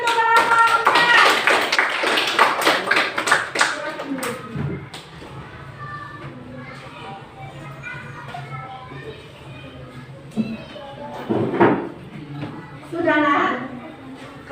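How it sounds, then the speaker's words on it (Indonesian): Schoolchildren clap for a student group in a classroom, with a loud patter of hand claps at the start that fades into children's chatter and a teacher talking, plus scattered taps and thuds. "Ayo kasih tepuk tangan untuk kelompok 4."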